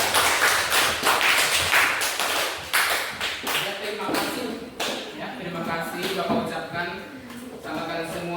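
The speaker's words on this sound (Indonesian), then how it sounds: "Tepuk tangan." Classroom applause during a civics teaching session, a burst of students clapping that grows scattered and fades, with talking and voices running underneath and continuing afterward.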